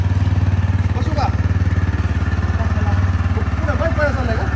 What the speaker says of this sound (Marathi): पुढे बाईक पळा चाललाय का?